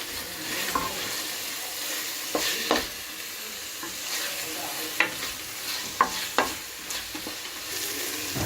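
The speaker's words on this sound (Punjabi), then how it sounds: "ਇਸ ਨੂੰ ਆਪਾਂ ਉਹਨਾਂ ਚਿਰ ਤੱਕ ਹੁਣ ਭੁੰਨਾਂਗੇ ਜਿੰਨਾ ਚਿਰ ਤੱਕ ਮਸਾਲਾ ਤੇਲ ਨਾ ਛੱਡ ਦੇਵੇ" Taro curry masala roasting in hot oil while being stirred, a steady soft sizzle with scattered scraping clicks of the spoon against the pan, close and alone with no voices.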